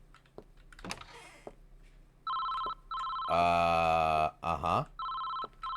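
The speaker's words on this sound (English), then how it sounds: "I'm closing this door again before I answer the phone." A telephone rings inside the video game Late Shift: loud, repeated electronic ring bursts with short gaps between them. A voice murmurs briefly just before the ringing starts.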